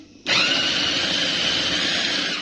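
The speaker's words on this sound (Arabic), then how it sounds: "وهنبدا نفرم بقى كل حاجه معانا، نفرم كل المقادير ديت مع بعضها" An electric food chopper switches on and whirs loudly and steadily up close, mincing chicken kofta ingredients with parsley in one continuous run after a short quiet start.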